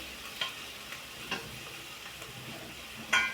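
Chickpea flour (besan) sizzles in a pan with onion and raw mango, a low steady frying hiss broken by a few faint scraping stirs, quiet and close with no talking.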